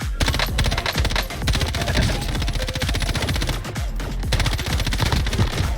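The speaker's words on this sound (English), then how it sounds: "You're shooting all your bullets at him." Rapid assault rifle fire in the Call of Duty Warzone video game, long sustained automatic bursts with a few brief pauses, loud and close.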